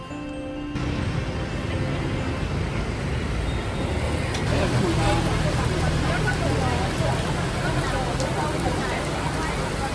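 Steady rain falls outside a café in Ho Chi Minh City, a dense, even hiss that continues throughout at moderate loudness, with faint traffic and a few scattered background voices.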